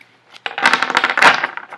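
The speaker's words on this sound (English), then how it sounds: "let's do a quick shuffle, as I like to do with my little unboxing reviews" A tarot deck of cards is shuffled by hand, producing a loud, close, fluttering riffle of rapid papery clicks that swells and fades over about a second.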